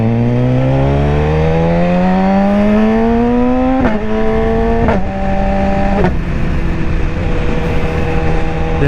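Motorcycle engine revs steadily upward in pitch, loud and close, then a few quick gear-change-like breaks before holding at a lower steady drone; no talking.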